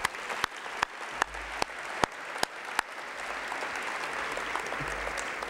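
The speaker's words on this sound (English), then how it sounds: "Please give them a round of applause." Audience applause at a college luncheon, dense many-handed clapping held at an even level throughout, with a few sharp louder claps standing out near the start.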